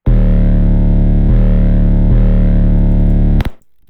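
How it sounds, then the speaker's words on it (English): A loud, heavily distorted electronic hip-hop beat made in FL Studio pounds steadily for a few seconds, saturated and buzzing, then cuts off abruptly into near silence. "Super loud, super distorted."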